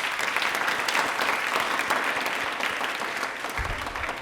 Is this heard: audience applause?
yes